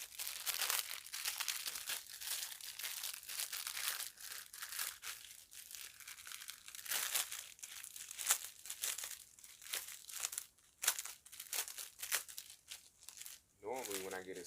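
Plastic packaging holding a sample face mask is crinkled and torn open by hand, a long run of close, busy rustling and crackling with brief pauses, and a voice talks partway through.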